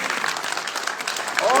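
Crowd applauding at a political election speech in Thanabhawan, a short burst of dense clapping that builds slightly toward the end.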